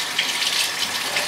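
Water runs from a kitchen faucet in a steady hiss during washing up, close and alone.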